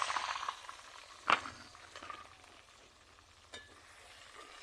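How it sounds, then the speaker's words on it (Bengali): Onions sizzle in hot oil in a pan with bay leaves for a Bengali desi chicken curry: a soft, steady frying hiss with a few sharp stirring clatters from the pan, quiet and close. "পেঁয়াজটাকে একটু ভেজে নেব।"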